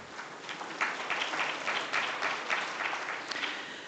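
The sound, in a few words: audience applause at a business forum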